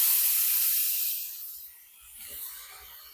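Tomatoes hit a hot oiled pan with a loud burst of hissing sizzle that gradually fades to a softer steady crackle, close up with no talking.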